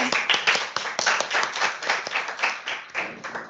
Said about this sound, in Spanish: Excelente, un fuerte aplauso.